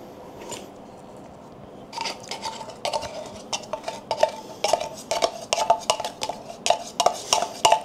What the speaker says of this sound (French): Mélangez jusqu'à ce que la préparation soit homogène et versée dans la croûte.